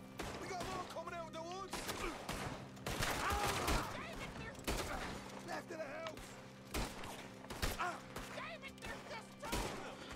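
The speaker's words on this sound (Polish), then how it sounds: "No przecież widzi, że jestem ostrzeliwany" Gunfire in Red Dead Redemption 2 rings out in repeated bursts and single cracks, mixed with game voices and background music, with talking heard throughout.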